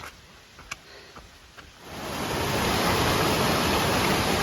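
Rain-swollen water flows across a muddy trail crossing on Mount Madison along the Appalachian Trail. After a few faint clicks, a steady rushing stream swells up close and loud, then holds.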